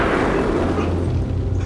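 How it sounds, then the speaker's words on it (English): A parcel bomb goes off as the string on a small wrapped box inside a larger one is cut: a loud, close blast followed by a dense low rumble that lingers with no voices. "He cut the string, and there was an explosion."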